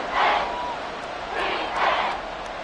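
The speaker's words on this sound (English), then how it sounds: "the crowd getting into it as we come up on a big 3rd down" Football stadium crowd at a Ravens game building before a big third down: a broad, roaring din of many voices, swelling in waves and fairly loud throughout.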